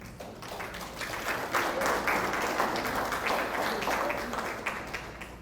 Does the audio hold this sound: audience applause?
yes